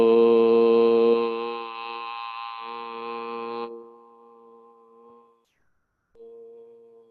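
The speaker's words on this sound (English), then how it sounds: "now we'll make the sacred sound of Om." Sacred Om chanted by a group in a vinyasa yoga class, a sustained harmonic hum held for several seconds, fading as voices drop away, then a single voice resumes softly.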